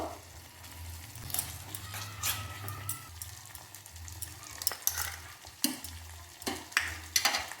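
Spice paste is stirred with a little water in a pan for a Bengali shukto masala. A spoon scrapes irregularly over a soft sizzle and low hum.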